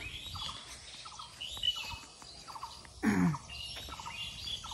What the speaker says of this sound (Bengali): দেখতেই পারতেছেন সকালের পরিবেশ, মানুষ নেই, পাখির কলারব